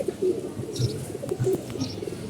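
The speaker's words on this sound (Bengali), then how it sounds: "এই যে একটা কালদম কবুতর" A Kaldom flying pigeon coos close by in several soft, low rolling calls, with faint chirps from other birds around it.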